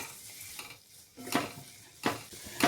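Green chilies, ginger, garlic, onion and curry leaves sauté in a pan over medium heat, with soft sizzling broken by a few sharp scraping and clinking strokes of a stirring spoon against the pan.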